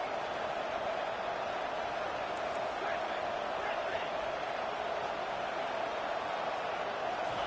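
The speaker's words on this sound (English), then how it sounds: "wow, listen to this crowd noise. This stadium is vibrating" A steady, dense roar from a packed stadium crowd in a college football video game, with no lulls, surging evenly throughout.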